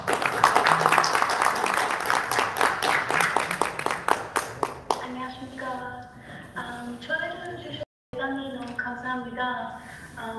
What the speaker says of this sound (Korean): 큰 박수로 맞으십시오.